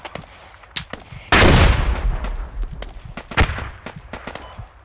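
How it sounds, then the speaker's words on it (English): Grenade blasts in the military shooter Squad, a heavy booming burst then another sharp detonation, scattered gunshot cracks around them, loud and fairly close with no talking. "those are good nades"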